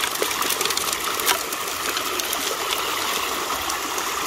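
Water rushes through a gold sluice in a steady, broad splashing flow with small spattering bursts, close and continuous throughout, with no talk.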